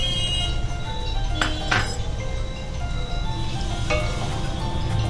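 A bowl from yogurt, rinsed with water and poured over fish in a Bengali dahi chitol dish, gives a few sharp clinks against another vessel over a steady background hiss.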